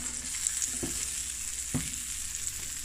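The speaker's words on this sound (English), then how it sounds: "we're just gonna let this fry up" Plantains, eggs and sausage frying for a Jamaican breakfast, with a steady hissing sizzle in the pan and two soft thuds of stirring.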